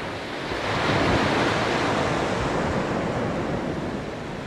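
Steady roar of sea waves washing onto the shore, broad and continuous, with some wind noise and no voices.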